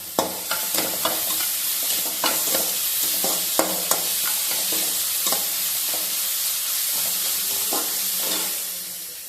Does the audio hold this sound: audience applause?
no